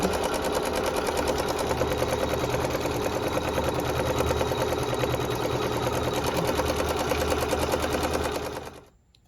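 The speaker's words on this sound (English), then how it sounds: "this will be a placement stitch for our background fabric behind the butterfly" A sewing machine stitches a placement line through wool fabric, a fast even rattling of needle strokes running steadily at close range before abruptly stopping near the end.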